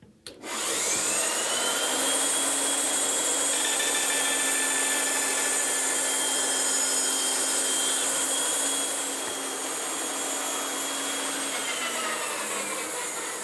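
A table saw runs loud and steady while ripping the top and bottom edges of a tenon on wooden stock, a sustained whine with a droning motor tone that eases slightly near the end.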